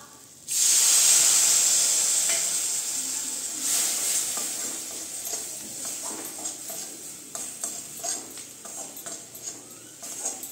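Spices including chili powder and turmeric fry in a pan for butter chicken, starting with a loud sudden sizzle that settles into steady hissing and crackling, with occasional stirring scrapes, close and without speech.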